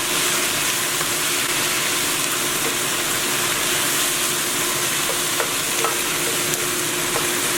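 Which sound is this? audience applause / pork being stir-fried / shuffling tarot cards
pork being stir-fried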